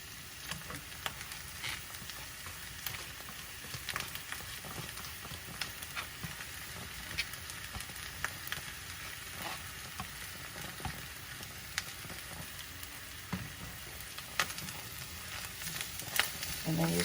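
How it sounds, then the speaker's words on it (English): Ginger and green onion fry in hot oil for a chicken sauce, a steady dense sizzle with scattered crackles and pops running throughout, close and even in level, with no talking. "And then you start mixing the ginger and the green onion in the oil."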